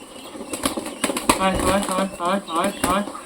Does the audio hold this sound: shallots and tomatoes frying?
no